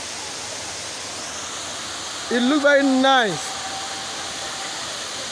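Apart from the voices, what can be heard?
Kintampo waterfall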